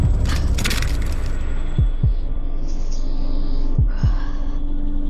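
A loud, pounding heartbeat throbs in paired double thumps against a constant low hum, close and heavy, with no one talking.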